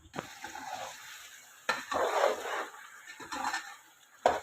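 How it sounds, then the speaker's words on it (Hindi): Chicken pieces fry in oil in a karahi, with a soft sizzle under bursts of stirring and scraping of a spoon against the metal pan, fairly quiet and close. "हम इसे अच्छी तरह पहले फ्राई कर लेते हैं। चिकन को अच्छी तरह फ्राई करने"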